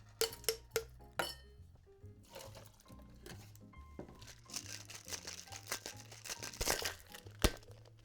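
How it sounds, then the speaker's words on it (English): Ice being dropped into a cocktail glass over a large strawberry at a bar, a run of sharp clinks and crackling rattles early on, then busier clattering and crinkling, fairly quiet and with no talk. "Great, and now ice in here."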